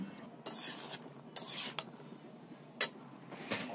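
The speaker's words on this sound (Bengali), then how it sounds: "এবার সব ভালো মতো একসাথে ভেজে নিতে হবে।" Chopped cabbage, carrot, spring onion and cauliflower are stirred together in a pan, making a few faint scraping and rubbing strokes over a quiet background.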